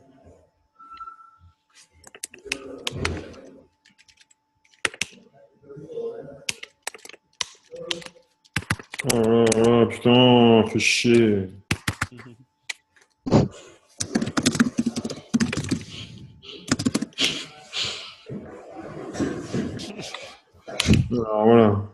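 Scattered clicks of keys being typed on a computer keyboard, mixed with someone talking and a short burst of louder speech partway through.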